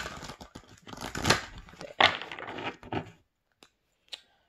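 Quick papery rustling and riffling of tarot cards, several bursts in a row, close and fairly loud, then a couple of light taps before quiet.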